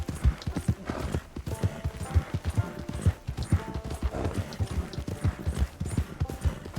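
A horse gallops in Red Dead Redemption 2, its hooves beating a steady, driving rhythm of close, loud thuds that carry on without pause.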